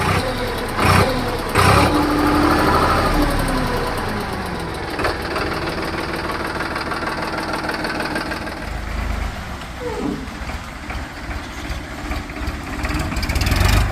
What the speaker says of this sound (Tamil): ஸோ வண்டி சவுண்ட்லாம் காமிக்கிறேன் பாருங்கள்